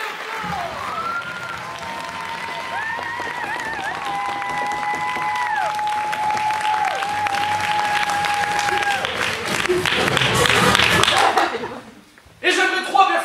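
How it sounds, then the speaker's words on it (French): An audience at an improvisation theatre show claps loudly and steadily for the improvisers, with sustained whistles and tones over the applause before it cuts off and briefly resumes. "On peut les applaudir bien fort."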